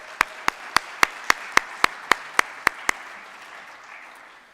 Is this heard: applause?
yes